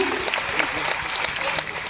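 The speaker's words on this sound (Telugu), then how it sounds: "ముందుగా మన తెలుగు ఫిల్మ్స్ డైరెక్టర్ అసోసియేషన్కి గట్టిగా ఒకసారి చప్పట్లతో అభినందనలు తెలియజెప్తాము." An audience at a Telugu film directors' association awards event applauds in a dense, continuous burst of clapping that fills the room.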